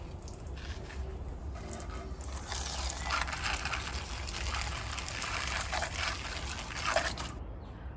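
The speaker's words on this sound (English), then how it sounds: "let's water them" Water trickles and splashes onto seedlings planted in a chocolate seed slab, a steady close pour with soft dripping that stops abruptly near the end.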